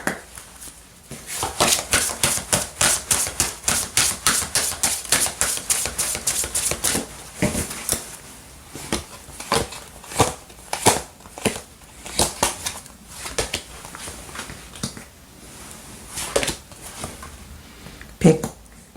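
Lenormand tarot cards are shuffled, drawn and laid out in a quick run of crisp card flicks and riffles, then slower scattered taps and slides, up close with no one speaking.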